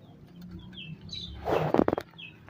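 Pigeons are let out of their loft outdoors on a cloudy, lightly rainy day, with faint chirps and then a short, close burst of wing flapping as birds take off.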